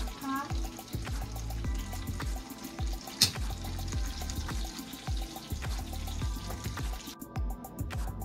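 Warm water pours into a 6-quart stock pot over browned oxtail pieces for soup, running steadily beneath a talking voice and the clatter of kitchen work.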